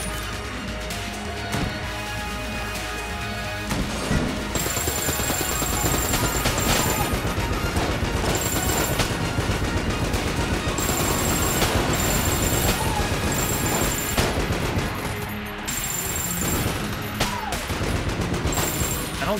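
Dense, continuous gunfire and explosive blasts in Enter the Gungeon, with rapid shots and crashing bursts layered over game music, loud and unbroken throughout.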